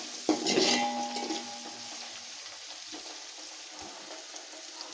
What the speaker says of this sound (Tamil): நல்லா வதக்கணும் இந்த வெங்காயம் வந்து ப்ரௌனிஷாக வர வரைக்கும் நல்லா நம்ம ஆயிலில் டீப் ஃப்ரை பண்ணணும்